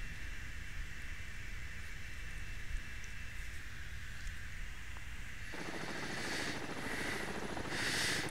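A helicopter passes overhead in the submarine video game Cold Waters. It is a steady, faint rotor wash above a low hiss that swells toward the end.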